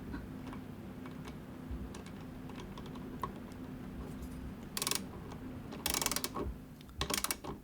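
A bolt and nut on a mounting bracket are tightened by hand, giving faint ratcheting clicks and small metallic taps. A few sharper bursts of clatter come near the end.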